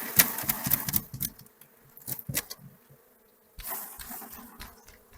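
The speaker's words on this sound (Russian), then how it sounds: "Все пчелки, которые у нас летные, они поднимаются тут же от такого стресса и дыма в воздух" Honey bees buzzing in bursts as a beekeeper shakes them off a brood frame and smokes the hive, loud, close swells of buzzing with short quieter gaps between.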